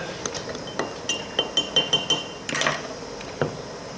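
Dental acrylic resin is stirred in a small container, producing a quick series of light clinks and taps against the vessel, close and distinct, with a brief scraping swirl midway.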